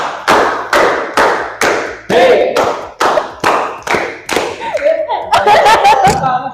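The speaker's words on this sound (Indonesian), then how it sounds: "Coba kita tepuk 3" A group clapping rhythm during an ice-breaker in a group guidance session: sharp, loud, close claps repeat in a patterned beat, with laughter and voices rising between and over the later claps.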